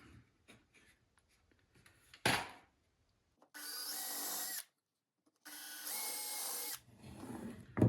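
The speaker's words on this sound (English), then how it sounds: "And we can pre-drill that." A drill pre-drills holes in wood during flat-pack dock assembly, two steady whirring bursts of about a second each, close and loud, with brief scraping and knocking of wooden parts between them.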